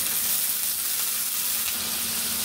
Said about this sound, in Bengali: মশলাটা পুড়ে না যায় তার জন্য একটু পানি দিয়ে দিব।